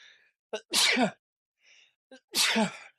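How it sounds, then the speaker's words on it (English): A person sneezes twice, each sneeze preceded by a quick sharp inhale, loud and close in a quiet room. "hold on, I got to sneeze."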